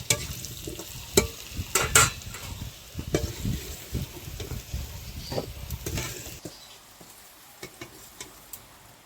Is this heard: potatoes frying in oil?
yes